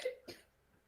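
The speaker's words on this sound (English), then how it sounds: "I just heard a child cough" A child coughs twice in quick succession, faint and somewhat distant in an otherwise quiet room.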